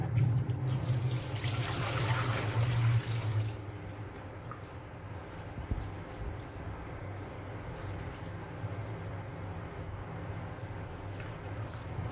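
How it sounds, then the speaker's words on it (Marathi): Fresh fenugreek leaves from a home garden are rinsed under running water, a steady close trickle and splash for the first few seconds, then softer dripping and faint handling noises. "खूप छान पाण्याने धुवून घ्यावं लागते."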